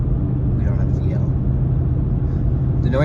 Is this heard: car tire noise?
yes